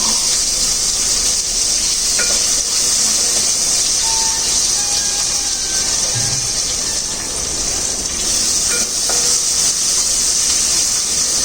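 Onion, garlic and curry leaves sizzle in a hot pan, a continuous loud hiss with faint clinks and small pops and no talking.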